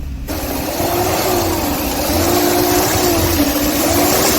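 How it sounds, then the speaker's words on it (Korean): A 1995 Mercedes-Benz car engine runs at idle with fluctuating RPM, its hum rising and falling slightly in pitch, with a noisy mechanical wash over it. "역시 엔진룸에서 웅 합니다"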